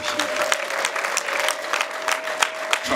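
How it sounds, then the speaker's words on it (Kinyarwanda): Applause at a wedding celebration: many hands clap steadily for three seconds from a crowd at moderate distance, with a faint sustained tone running underneath. "Dukomera amashyi menshi cyane."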